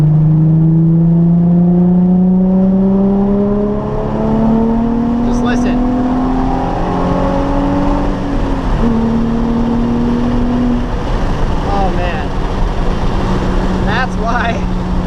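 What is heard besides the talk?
sports car engine revving with muffler delete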